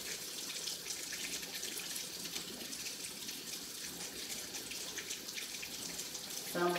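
A kitchen tap runs a steady stream of cold water over boiled eggs, a continuous close splashing hiss with a brief louder gush near the end.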